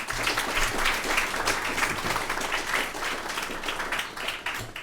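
Audience at a young entrepreneurs' pitch event in Burkina Faso applauds the jury members, a continuous patter of many hands that swells and eases without any talking over it.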